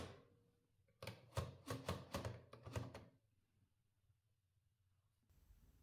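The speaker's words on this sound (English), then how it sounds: "When you select the letter, the typing ball wraps against the ink roller." A 1950s VEB Optima Bambino typewriter, its typing ball striking against the ink roller: six or seven sharp, close mechanical clacks in a quick, fairly even rhythm, then quiet.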